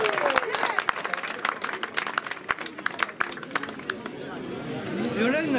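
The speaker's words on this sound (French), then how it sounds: "Yolène, vous pouvez l'applaudir" Audience at an outdoor gathering clapping for a local mead maker, sharp scattered claps mixed with crowd chatter and voices talking over it.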